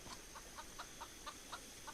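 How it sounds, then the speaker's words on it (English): Chickens cluck in a medieval zombie survival video game, faint, evenly spaced short clucks repeating at a steady rhythm, distant and alone. "And I still hear the chickens,"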